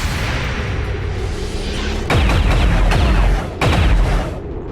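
Advent Overwatch gunfire in the tactical game XCOM 2: two loud bursts of rapid gunshots with booming impacts, each cluster about a second long, over a constant rumbling battle ambience.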